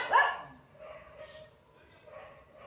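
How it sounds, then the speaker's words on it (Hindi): Dogs in front of a house bark loudly in the evening, with a few separate barks spaced about a second apart at a moderate distance over faint background noise, and no one speaking. "ये हमारे घर के सामने कुत्ते हैं, देखिए कितना ज़ोर ज़ोर से चिल्लाते हैं।"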